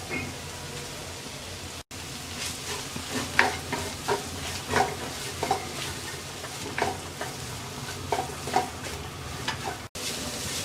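Chopped capsicum, shredded cabbage and boiled shredded chicken fry in a pan for chicken fried rice, a steady close sizzle broken by repeated scraping stirs of a spatula, with no talking.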